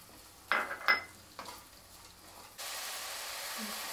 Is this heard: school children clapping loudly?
no